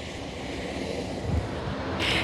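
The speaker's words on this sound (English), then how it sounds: "6 cargo planes wait on the tarmac at this airbase near Amman," Hercules cargo planes sit on the tarmac at an airbase near Amman, Jordan, with a steady, loud turboprop engine drone throughout and a brighter whine rising near the end.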